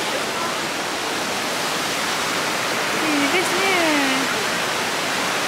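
A waterfall fed by hillside water near a university mosque in Padang, Indonesia, pours as a steady, broad rushing roar, with a brief spoken remark and faint chirping over it.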